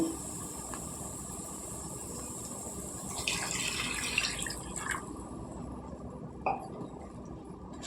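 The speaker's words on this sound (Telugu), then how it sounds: "గ్లాస్ పోసానండి నీళ్ళు" A glass of water poured into a pot of mutton and mango curry in a short splashing burst, followed by a faint clink and quiet hiss.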